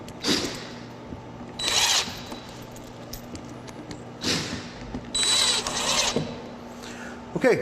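Power drill driving screws into an aluminum rail, heard as several short whirring bursts separated by pauses over a steady low background hum.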